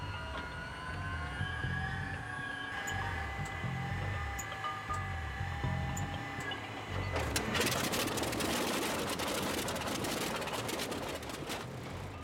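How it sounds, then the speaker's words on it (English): A cold World War II-era aircraft engine is started, with a thin whine and low cranking rumble giving way about midway to a loud, rough, sustained roar with no talking. "As with many World War II-era aircraft, starting the engine cold is a haphazard and messy affair."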